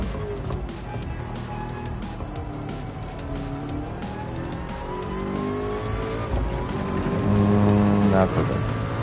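Race car in Gran Turismo 7 at Daytona snapping sideways on a straightaway, a steady engine drone with sweeping pitch shifts and a tire squeal near the end, with faint talk underneath.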